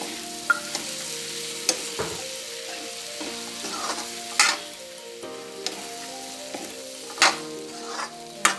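Green peas stirred into aloo gobi frying in a pan, with a steady sizzle broken by a series of scraping stirs and spoon knocks at irregular intervals, close and clear, without any voices.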